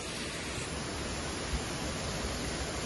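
A steady broadband roar of rushing water from a waterfall at Mount Abu, Rajasthan, continuous and even throughout with no voices.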